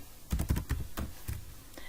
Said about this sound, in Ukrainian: вводимо з клавіатури самостійно